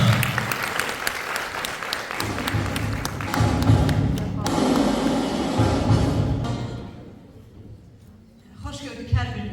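An audience in a theatre claps warmly at an anniversary gala, dense steady applause that swells, briefly thins, then picks up again with a few louder claps near the end, without voices over it.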